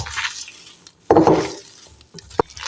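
Hands mix cabbage pakora batter with spices in close, wet squelching bursts, separated by pauses and ending in a short sharp knock.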